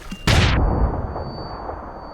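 A frag mine goes off in Deus Ex: Human Revolution with a sudden loud blast. A rumbling tail fades over about two seconds.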